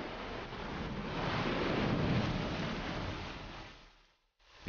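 Stormy sea surf and wind off the Greek coast churn in a continuous loud wash that builds to a peak mid-way, then falls away sharply near the end.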